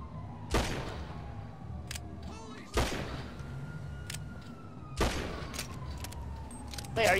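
Three separate loud gunshot blasts from a video game, spaced about two seconds apart, each followed by a ringing tail over a low background hum.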